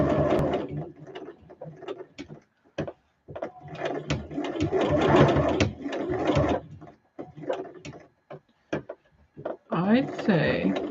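A home sewing machine runs in bursts of rapid punchy stitching with stops and starts between runs, mixed with talking and some handling clatter during a late-night sewing session.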